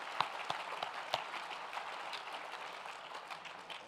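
At an alumni awards show, an audience applauds its honorees with a faint, distant round of clapping, a few sharper individual claps standing out early before the sound settles into a soft, steady patter.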